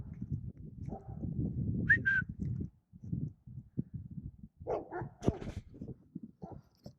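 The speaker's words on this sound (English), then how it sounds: "those dogs are woofing at." Several dogs woof outdoors near a property where dead trees are being felled. Scattered short barks come and go at a moderate distance over a quiet background, and no one speaks.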